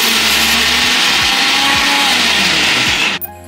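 An electric mixer grinder chops washed small chicken pieces for chicken vadalu, a loud continuous whirring roar with rhythmic thumps from the jar contents, then cutting off abruptly near the end.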